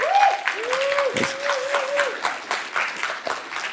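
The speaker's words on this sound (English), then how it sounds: "let's give a huge round of applause for CallStack" Enthusiastic audience applause at a React Universe developer conference talk, sustained clapping close by with a voice speaking over the start.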